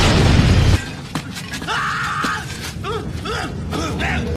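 A building blowing up in The Crow: a loud, deep explosive blast at the start that cuts off abruptly, followed by scattered debris crackles, a long groaning creak and faint shouting voices.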